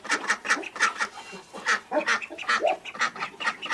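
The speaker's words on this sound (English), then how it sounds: "But look how big those ducks are." Several large, growing ducks quack in quick, repeated bursts close by, a busy, uneven series of loud calls with no talking over them.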